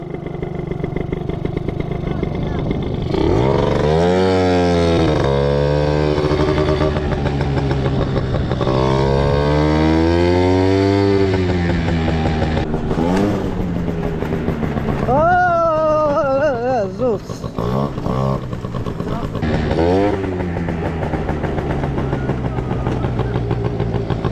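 A small scooter engine runs close by throughout, rising and falling in pitch as it revs and speeds up, with occasional rattles and a voice speaking over it.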